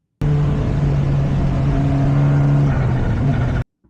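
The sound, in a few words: race car braking and downshifting into turn two at Misano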